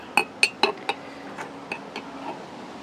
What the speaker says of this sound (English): I'm just going to put a nice big scoop of that, maybe 2 scoops in my glass.